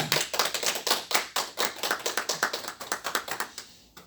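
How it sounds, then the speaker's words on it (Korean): A church congregation claps during a Sunday service, a brisk run of distinct, rhythmic hand claps from a modest group, fading near the end. "우리 박수하겠습니다"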